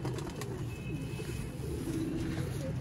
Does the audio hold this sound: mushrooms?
no